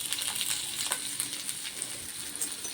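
Garlic and cumin seeds sizzle in a little hot oil in a home kitchen, a close, continuous crackling fry with small pops and no voices over it.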